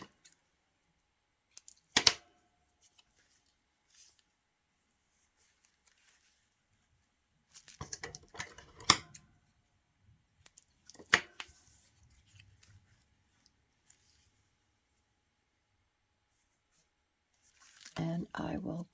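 Paper being cut down for an art journal: a few faint, close snips and rustles in short separated bursts across long quiet gaps, with some soft handling noise near the end.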